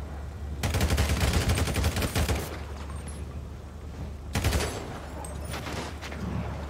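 Sustained automatic gunfire in GTA 5 Online, a dense roaring burst lasting about two seconds, a pause, then another loud burst, with low rumble underneath throughout.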